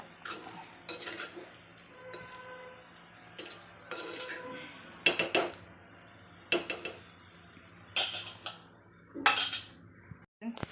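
Avial being stirred in a pot after coconut oil goes in, with intermittent metallic clinks and scrapes of a spoon against the vessel, separated by quiet pauses.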